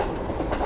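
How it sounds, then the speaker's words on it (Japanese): A Shinkansen bullet train rushes past in a brief, steady roar of rolling wheels and wind, loud and close. "新幹線、"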